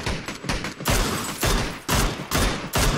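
PUBG gunfire in rapid, loud bursts of several shots each, with short gaps between volleys, close and dominant with no talk over it.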